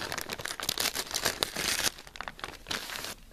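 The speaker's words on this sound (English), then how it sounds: "Let's get the package open." Crinkly plastic packaging on a 2008 Safari Ltd Carnegie Tylosaurus toy figure is torn and crumpled open, a close, continuous rustling and crackling with sharper tearing bursts and no talking.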